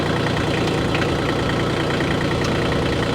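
KIOTI manual-transmission tractor engine idling close by, a steady low rumble with even knocking pulses held at constant loudness throughout, no talk.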